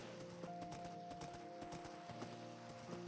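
Horse hooves clip-clop in a steady, quick rhythm in Minecraft, faint but clear, over a sustained tonal background.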